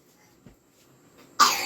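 A child gives one abrupt, loud cough near the end, following a near-silent room with faint small noises.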